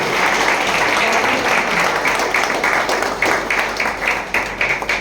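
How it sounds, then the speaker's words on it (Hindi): Audience applause at a party-style stage event, a dense continuous wash of many hands clapping that fades slightly toward the end, with no talk over it. "आपको पार्टी करना चाहते हैं तो जोरदार ताली चाहिए"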